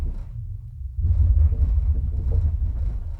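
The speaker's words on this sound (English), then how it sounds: "here comes the grenade launcher" A grenade launcher sound effect booms through a Monolith 15 or SVS PB16 subwoofer as a deep rumbling thud that starts after a brief quieter moment and rolls on heavily to the end.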